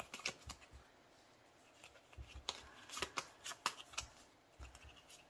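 Paper cash banknotes shuffled and flicked by hand during cash envelope stuffing, a string of quiet crisp riffling bursts and soft papery taps, close and fairly faint with no talking.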